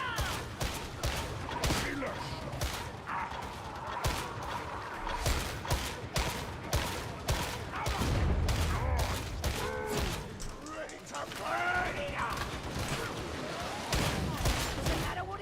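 Shotgun fire from a Scout Shotgunner enemy in the Darktide video game: repeated sharp blasts and fusillade bursts amid dense combat noise, with voices shouting over the fighting.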